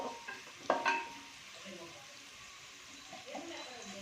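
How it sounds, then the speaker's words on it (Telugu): Onions frying in a pan for meal maker fried rice, a soft continuous sizzle with a brief clatter of stirring near the start, close and quiet. "సో ఇది అండి, ఇలా ఫ్రై అవుతూ ఉంటుంది."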